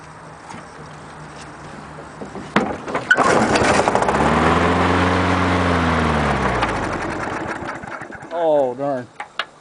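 A 1993 Briggs & Stratton engine on a 1996 Murray lawn mower sputters, then catches and runs loudly for several seconds with a falling engine tone before dying away, cold and reluctant to start, with a person talking near the end.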